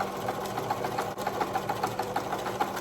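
A domestic sewing machine back stitching a dress seam, a fast, even mechanical whirr of close needle strokes with a brief pause partway through, no talking.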